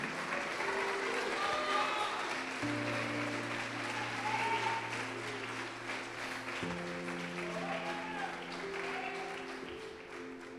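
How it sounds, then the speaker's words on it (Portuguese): A church congregation claps together in a continuous, moderately distant wash of applause, with a sustained musical tone beneath it and faint voices mixed in. "Pode aplaudir e adorá-lo."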